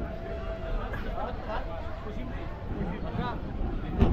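Dense crowd hubbub fills a temple festival feast at the Kalbhairav birth celebration in Chiplun, with many overlapping voices and steady chatter throughout and a brief thump near the end.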